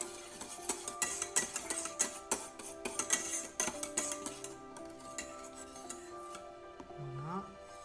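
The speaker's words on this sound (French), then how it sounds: "On remue." Liquid cream poured into warm vanilla ice-cream base and stirred in a bowl, with light clinks and scraping of a utensil against the dish, quiet and close, fading near the end.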